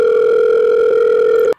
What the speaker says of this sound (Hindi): मामा को फ़ोन डायल कर दिया